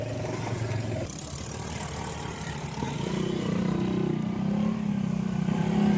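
A motorcycle engine hums nearby, growing louder and slightly higher in pitch as it approaches over steel sheet piling on a damaged road, over steady background traffic noise.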